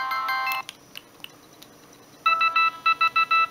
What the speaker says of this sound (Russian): Да, кстати, это T-Mobile-овский рингтон.